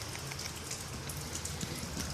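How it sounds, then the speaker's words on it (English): Heavy rain pours down in a steady, dense hiss of drops drumming on surfaces, continuous and loud throughout with no voices. "it's pouring it down with rain"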